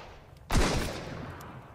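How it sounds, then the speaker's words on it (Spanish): A single loud, sharp gunshot in the survival video game Sunkenland is heard close up, and its echo fades slowly over the next second. "Estoy escuchando más disparo igual."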